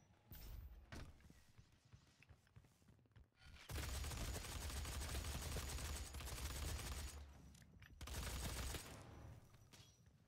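Shotgun gunfire in the video game DOOM, with loud sustained bursts of blasts and game action, quieter rattling between them, and no talk.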